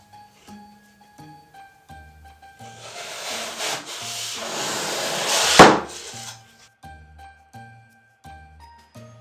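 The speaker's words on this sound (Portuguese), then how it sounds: "E agora eu vou cortar os pedaços da espuma floral para que eu possa encaixar" Floral foam is cut into pieces for an Advent Christmas table arrangement, giving a soft, gritty rubbing and scraping for about three seconds that ends in a sharper crunch, with gentle background music throughout.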